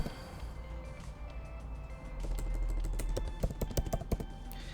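Rapid typing on a computer keyboard while filling in an online form, a quiet run of keystrokes that becomes denser, louder clicking in the second half, with no voices.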